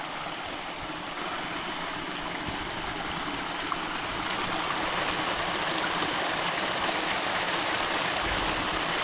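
Steady rushing water where a stream pours into a waterfall pool in a forest, a continuous broadband wash that holds level and close throughout, with no voices.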